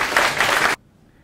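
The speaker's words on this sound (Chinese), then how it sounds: "希望大家用掌声，热烈的掌声欢迎高教授来解释" Audience applause at a Taiwanese-style talk event, welcoming a professor to the stage: dense, steady clapping from a crowd that stops abruptly, leaving near silence.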